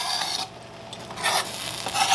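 Chopped onion goes into a hot pot for homemade chili, giving a soft sizzle and scraping stir as it is pushed around, with a short quiet lull before the sizzling and stirring pick up again.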